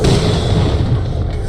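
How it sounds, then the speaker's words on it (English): A grenade explodes in the video game Borderlands: The Pre-Sequel, a loud, sustained low rumbling blast that fills the whole moment with dense booming energy and no clear separate hits. "Grenade!"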